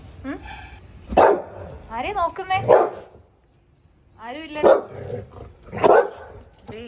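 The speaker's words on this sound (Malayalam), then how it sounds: "അവരെ നോക്കി കുരക്കലാണ് ഇവന്റെ മെയിൻ പണി" A pet dog barks repeatedly at stray dogs outside, several sharp, close barks spaced apart while a person speaks to it between them.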